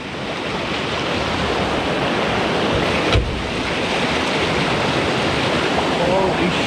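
River water rushes loudly and continuously around a vehicle stuck in the current, a dense broadband roar with a brief thump midway.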